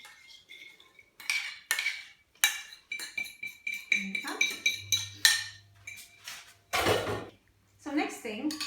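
Doughnut dough with milk and sugar is mixed in a bowl, a spoon scraping and clinking against the sides in short bursts between spoken instructions.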